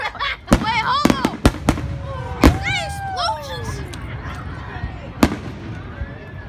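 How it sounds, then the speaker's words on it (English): Fourth of July fireworks crackle and bang in a rapid burst, sharp pops mixed with whistling rockets sliding in pitch, then a lone late bang as the noise thins out. "It's fireworks."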